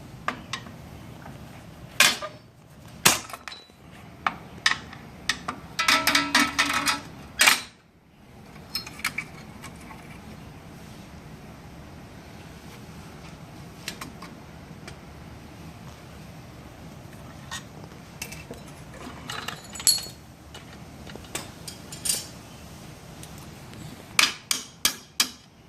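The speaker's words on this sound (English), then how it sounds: "So I'm going to use my brake spring tool and start taking off" Metal clinks and snaps ring out as a brake spring tool pulls drum brake springs off a 1968 Ford Thunderbird rear axle, with irregular bursts of sharp tapping and scraping separated by quieter stretches of handling.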